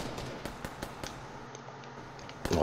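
Rapid bursts of video game gunfire in a crowded online shooter match, sharp cracks scattered irregularly at moderate volume, with a louder cluster of shots at the end.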